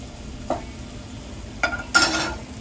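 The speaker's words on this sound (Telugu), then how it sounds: "వెల్లుల్లి రెబ్బలు చిన్న చిన్న ముక్కలు కింద కట్ చేసుకుని లైట్గా వేయించుకోవాలండి." Chopped garlic cloves lightly frying in a pan give a soft background sizzle, broken by three quick stirring scrapes, the last one louder.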